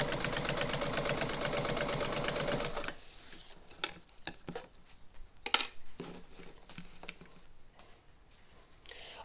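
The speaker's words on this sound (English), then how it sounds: "listen to the sound of this Necchi, right? It's just an incredibly quiet machine when you consider it's an oscillating hook." Necchi BU Mira sewing machine with an oscillating hook runs for about three seconds with a fast even whirring chatter, then stops, leaving scattered quiet clicks and handling knocks.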